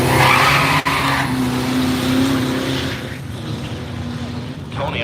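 Turbocharged car at a drag strip during a drag-and-drive rally at Woodburn Dragstrip, spooling up at the line with a loud, close, sustained roar and tire hiss. An announcer commentates over it.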